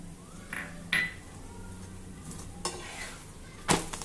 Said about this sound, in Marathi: पराठा दोन्ही बाजूनी खमंग भाजून झाला